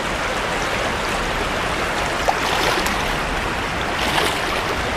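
Steady broadband rush of a mountain stream flowing over rocks in the Smoky Mountains, continuous and fairly close, with no voices over it.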